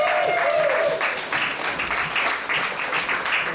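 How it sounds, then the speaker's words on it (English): Audience at a stand-up comedy show breaking into a steady round of applause, dense clapping that stays loud throughout, with a brief whistle near the start. "I want everybody to give a big round of applause for Scott McDermott."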